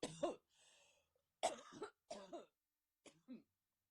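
A woman coughs repeatedly in short harsh bursts separated by brief silences, close and fairly quiet, with a throat-clearing quality and a soft breath between fits.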